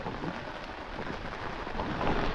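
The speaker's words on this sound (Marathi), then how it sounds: "तर पाऊस पण आलाय खूप" Heavy rain pours down in a dense, continuous broadband roar, steady and loud from start to finish with no voices.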